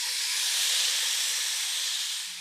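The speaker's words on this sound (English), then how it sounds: "saute your beef. It shouldn't take but maybe 5 minutes or so, 4 to 5 minutes." Small-sliced beef sautéing in a pan gives a steady, bright sizzling hiss throughout, close and even, with no talk.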